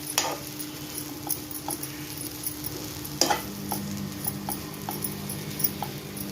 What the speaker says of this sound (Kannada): ಈ ಥರ ನೀವು ಪುಡಿ ಮಾಡಿಬಿಟ್ಟು ಚೆನ್ನಾಗಿ ಸ್ವಲ್ಪ ಹೊತ್ತು ಫ್ರೈ ಮಾಡ್ಕೋಬೇಕು